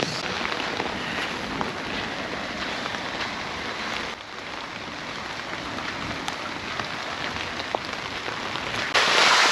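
Heavy rain drums steadily on a tent during a massive storm on safari in Dinokeng, a dense, continuous patter close overhead with no voices, swelling slightly louder near the end.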